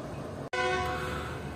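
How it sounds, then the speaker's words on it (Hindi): The 42 Down Karakoram Express pulling in at a railway junction, a loud close horn blast with sustained tonal ringing over rumbling train noise. "हमारी ट्रेन के पीछे पीछे आ रही है बिल्कुल 42 डाउन कराकरम एक्सप्रेस जो कि बस पहुंचने वाली है"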